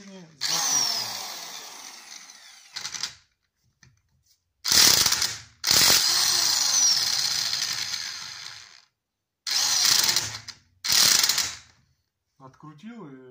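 An Elitech 350RE electric impact wrench unscrewing a nut runs in five loud, rattling bursts of hammering whir separated by short pauses. Some are long, others brief, and a faint voice is heard near the end.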